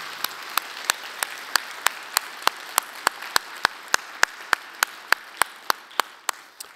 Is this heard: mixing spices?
no